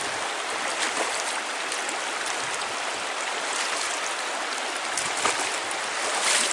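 River water rushes and splashes steadily over stones during a crossing of a clear river, a dense continuous wash that stays close and fairly loud throughout, with no talking.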